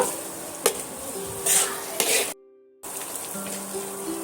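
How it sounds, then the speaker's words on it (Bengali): Spices with turmeric and chili powder are stirred in a pan, a soft sizzle with scraping spoon strokes and a few clinks against the metal, close up, broken by a brief gap of silence. "আমি সমস্ত মশলার সঙ্গে হলুদ আর লঙ্কা গুঁড়োটা মাখিয়ে নেব"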